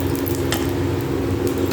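Spices and dried red chillies crackle in a little hot oil left from frying fish, a soft steady sizzle with faint clinks of a pan underneath.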